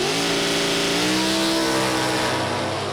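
A 1986 Camaro super stock drag car with a 316-cubic-inch engine runs hard beside another car, a loud sustained engine roar rising in pitch as it accelerates down the strip, close and with no talk.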